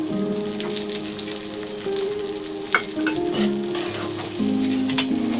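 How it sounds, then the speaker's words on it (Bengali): Two spoonfuls of oil saved from the meat go into a pan of cooking chicken tehari, setting off a loud, continuous sizzle with stirring and bubbling. No one speaks. "বন্ধুরা, মাংস থেকে এই 2 চামচ তেল তুলে রেখেছি, এটা দিয়ে দেব।"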